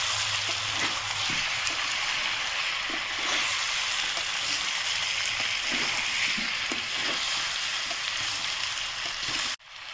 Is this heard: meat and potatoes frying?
yes